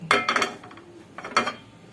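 A deep frying pan being handled in a kitchen, a few sharp metallic clinks and scrapes in two quick clusters separated by a short pause, close and fairly quiet with no talking.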